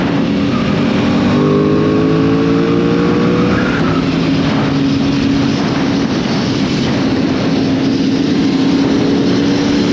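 A convoy of more than 70 motorcycles rides slowly through Guadeloupe, giving a continuous, loud blend of engine drone and road noise with no clear gaps and no talk.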